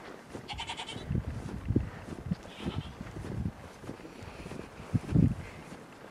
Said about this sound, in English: I hear goats.